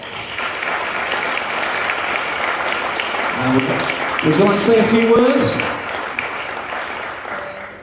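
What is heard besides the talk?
audience applauding award winners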